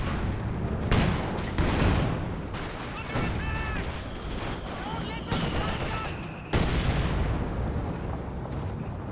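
Gunfire and explosions in the real-time strategy game Company of Heroes 2 during a 2v2 battle: repeated bursts of shots and booms, with a commentator talking over the fighting.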